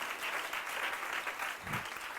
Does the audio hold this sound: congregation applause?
yes